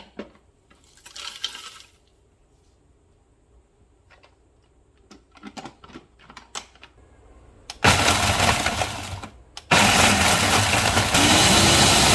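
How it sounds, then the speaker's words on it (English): An electric grinder roars on loudly in two long bursts, pulverizing dried jalapeño peppers, after a stretch of quiet handling and light clicking and tapping. "So I'm gonna go ahead and pull the rest of these out and we're going to grind them up"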